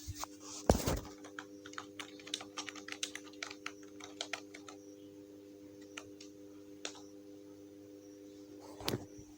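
Quick clicking keystrokes on a computer keyboard, typed in an uneven burst, soft and close against a quiet background hum, with a couple of louder knocks and no speech.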